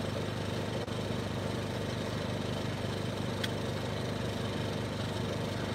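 A portable generator engine, one that keeps shutting off, idles with a steady, faint mechanical drone that holds constant from start to finish.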